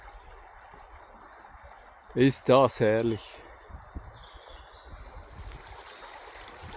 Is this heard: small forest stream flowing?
yes